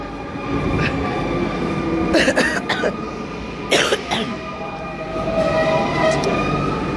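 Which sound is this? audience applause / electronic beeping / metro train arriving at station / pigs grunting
metro train arriving at station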